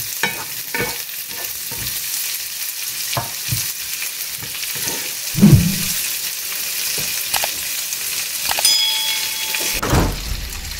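Onions sautéing in a pan sizzle steadily while a utensil stirs and scrapes at intervals, with a louder clatter midway and another near the end, close and unaccompanied by talk.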